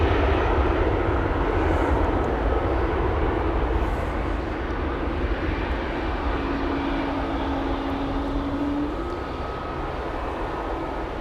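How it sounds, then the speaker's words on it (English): An Air Serbia Embraer 190 on flight 261 to Belgrade departs Schiphol Airport, a steady, broad jet-engine roar that stays loud and continuous throughout, with a faint rising tonal whine partway through. "Air Serbia on its way to Belgrade. This is flight 261. It's an Embraer 190."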